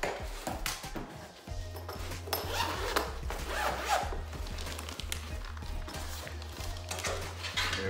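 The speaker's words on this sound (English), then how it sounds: "Let's open up this front pocket." The front pocket of a UTG 25-inch guitar case is unzipped in a long, steady zipper rasp running under low background noise, with some handling of the case.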